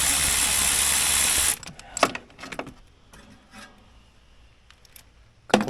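Ratchet wrench working loose 10 mm bolts on a Polaris Indy 500 Classic snowmobile, a few short clicking bursts and metallic rattles close by after a loud opening blast of broadband noise, with quiet gaps between.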